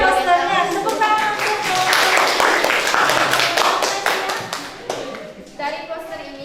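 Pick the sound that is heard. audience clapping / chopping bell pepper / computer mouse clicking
audience clapping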